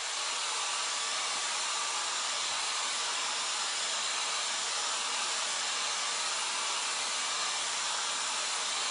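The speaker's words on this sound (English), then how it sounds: "I'm using the cool setting on my blow dryer because it's so close to the transfer you don't want to use heat." A blow dryer running on its cool setting, aimed close at a transfer, makes a continuous even rushing hiss with no breaks, loud and near throughout.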